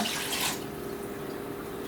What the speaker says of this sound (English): I'm going to go ahead and rinse this up again